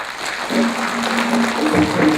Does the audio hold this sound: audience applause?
yes